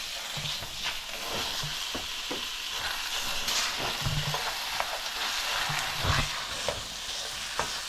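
Ground pork for a Khmer stir fry with prohok frying in a hot pan, a continuous loud sizzle and hiss with occasional scraping and stirring knocks, close up and without talk.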